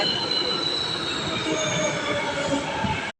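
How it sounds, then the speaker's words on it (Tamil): A metro train pulls into a station with loud, steady wheel squeal and rail rumble that runs unbroken for a few seconds, close by and with no voices over it. "நம்ம ட்ரெயின் வந்துட்டு பாருங்க."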